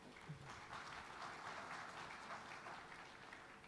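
A forum audience applauds, a soft, distant wash of many hands clapping that stays even and continuous throughout, with no voices over it.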